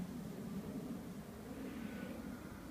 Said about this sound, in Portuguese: Avião tá fazendo barulho